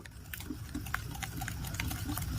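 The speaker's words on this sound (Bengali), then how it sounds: "এখন আমি হ্যান্ড উইচ দিয়ে সবগুলো উপকরণ খুব ভালো করে মিশিয়ে নেব।" A hand whisk stirring batter ingredients with milk, a soft, steady, rhythmic wet tapping and swishing in a bowl, close and fairly quiet.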